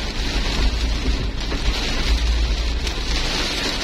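Heavy rain on a road trip toward Tompobulu in Maros, a steady loud roar of downpour with low rumbling underneath that fits distant thunder, constant throughout with no talking.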